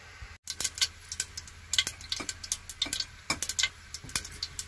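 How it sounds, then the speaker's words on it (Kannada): Mustard seeds popping and spluttering in hot oil inside a pressure cooker, a rapid irregular string of sharp close crackles and pops over a faint low hum, with no talking. "ನೋಡಿ ಸಾಸಿವೆ ಸಿಡಿತಾ ಇದೆ"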